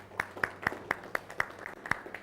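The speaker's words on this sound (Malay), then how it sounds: "Boleh kita beri tepukan pada dia?" A small class in a Malaysian classroom applauds a student, with about ten sharp, evenly spaced claps in a steady rhythm against a quiet room.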